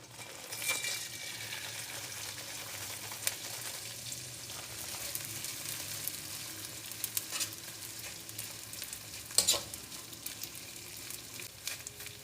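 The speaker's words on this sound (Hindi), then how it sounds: "सबसे पहले हम ये गोंद को फ्राई करेंगे" Pieces of gond, edible gum, fry in hot ghee over moderate heat, a faint continuous sizzle with occasional soft stirring clicks, no talk.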